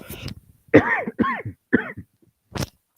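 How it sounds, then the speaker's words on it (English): A few short, harsh coughs in quick succession, close and fairly loud, followed by a pause and one more brief cough. "Needed that cough out."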